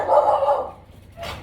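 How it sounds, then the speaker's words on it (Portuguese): A dog barks once nearby, short and fairly loud, followed by a brief quieter sound near the end, with no voices. "O cachorro aqui atrapalhando."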